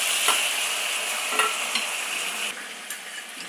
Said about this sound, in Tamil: இங்கே நல்லா கடுகெல்லாம் நல்லா பொரிஞ்சிட்டு